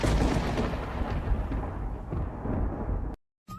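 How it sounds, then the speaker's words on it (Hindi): Deep rolling rumble of thunder from winter clouds, loud and sustained with low booming swells, cutting off abruptly near the end. "बाहर बादल भी गरज रहे हैं"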